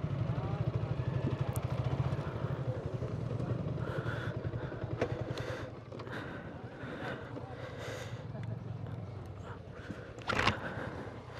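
A group of motorcycles rides along a country road on a winter morning, their engines droning steadily and fairly close, easing off partway through, with a brief louder clatter near the end.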